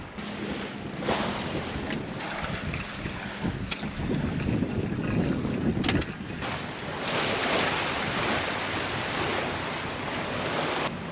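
Steady wind rushing over the microphone with water sloshing and hissing along a moving sailboat hull at sunset in deeper water, a continuous blustery roar with occasional knocks.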